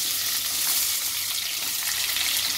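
Chopped onion frying in hot oil with mustard seeds, cumin and two bay leaves, a steady, close, hissing sizzle that continues evenly with no pauses or voices.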